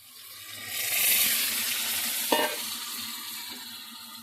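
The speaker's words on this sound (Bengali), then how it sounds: "আর দেবো সেদ্ধ করা ডাল।" Boiled mung dal goes into a hot pan and is stirred, giving a close, steady sizzling hiss that swells and then holds, with one sharp scrape of the spoon midway.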